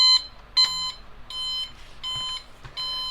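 A cheap $3 Wal-Mart alarm clock on its loud setting beeps in short, evenly spaced bursts, shrill and close, with no talking.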